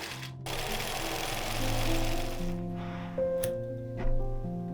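Sewing machine stitching long vertical lines down dark fabric toward the hem of a large tulle skirt, a steady close mechanical whir with shifting motor pitch and brief pauses between runs.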